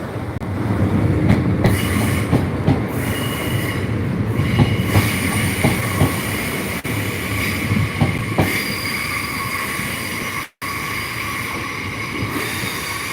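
A Northern Ireland Railways class 3000 train (unit 3020) on an empty stock movement rumbles steadily past Lanyon Place station in Belfast, loud and close, with rhythmic clacking wheels and occasional squeals throughout.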